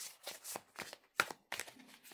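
A deck of tarot cards is shuffled by hand on a mat in a series of quick riffling bursts with short pauses between them, close and fairly quiet.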